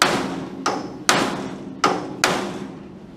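Hammer strikes on a steel punch driving out a stuck bolt, four sharp metallic blows spaced roughly half a second apart, close and loud, with no talking.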